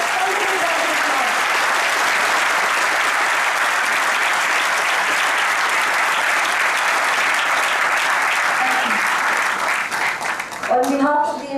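Loud, sustained applause from a large audience for a guest at a Unitedworld School of Business event. It fills the hall for about ten seconds, a voice is heard faintly under it, and it dies away as a speaker begins.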